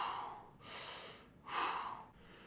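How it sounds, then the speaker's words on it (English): Deep diaphragm breaths demonstrated for false chord screaming: two long, airy breaths, each close and fairly loud, separated by a short pause, with no talking. "What you want to do is breathe with your stomach."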